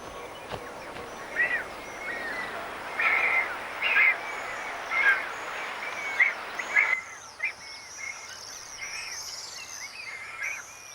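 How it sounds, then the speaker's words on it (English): Breeding birds nesting on cliff ledges and crevices in Botswana, giving repeated short calls at irregular intervals, moderately close, over a soft natural background. "Every crack and crevice is alive with breeding birds."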